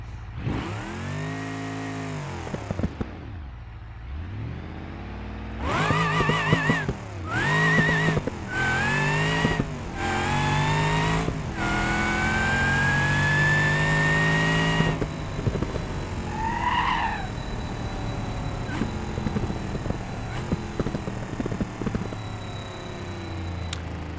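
Car in the BeamNG.Drive driving game, a Roadkill project car, racing hard: loud engine revving and accelerating in surges with tire squeal, a brief quieter lull, then sustained high-pitched whine and skidding to the end.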